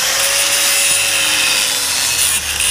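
A motorcycle exhaust bend pipe is cut with a tool, giving a loud, continuous, harsh grinding rasp heard up close without pause.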